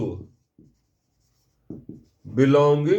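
Marker or chalk writing on a board during a coordinate geometry lesson on the locus of a point: a few short, soft scratching strokes in near silence, then a teacher's voice begins speaking.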